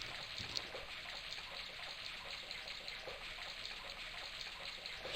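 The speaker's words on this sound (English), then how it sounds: "The faucet creaked, coughed, and spewed out a stream of rusty-colored water." A steady stream of rusty water pours from a creaky old faucet in Broken Sword, a continuous, even rush with no break across the whole stretch.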